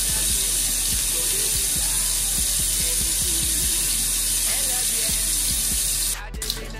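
A bathroom tap runs hot water into a sink, a steady hiss with small clicks and knocks throughout, ending with a brief squeak of the handle near the close.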